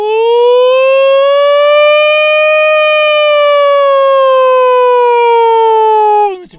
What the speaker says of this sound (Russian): Ну типа сирена